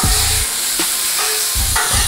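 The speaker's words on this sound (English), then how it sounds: "I'm gonna take the vegetables, throw those on, and then finish this off up." Vegetables for pepper steak sizzle on a Blackstone griddle with a loud, steady frying hiss, broken by bursts of spatula scraping.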